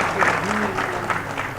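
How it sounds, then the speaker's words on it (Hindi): Crowd applause follows an MoU signing ceremony, a short burst of clapping heard with a voice speaking over it. "हस्ताक्षर होने के बाद आपकी जोरदार तालियों में"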